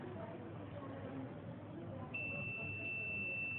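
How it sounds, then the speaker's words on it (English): Alarm buzzer on a large display unit for dial, vernier and micrometer readings, triggered when a reading crosses its control limits, sounds a steady high electronic tone that starts partway through and holds to the end, over faint background noise. "the system turns into red with loud buzzer"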